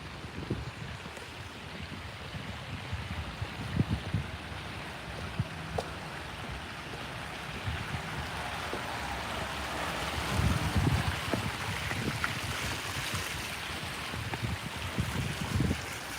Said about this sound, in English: It's really neat waterfall here.